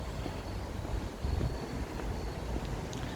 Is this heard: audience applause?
no